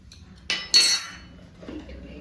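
A metal spoon is taken up and knocks against a cooking pot while eggplant is being prepared, giving two sharp, bright clinks close by followed by a faint scrape, with no talking.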